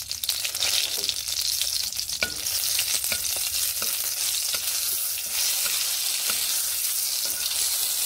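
Green chilli and black cumin seeds sizzle steadily in hot oil in a kadai, a dense continuous frying hiss with a few light scrapes of stirring running throughout.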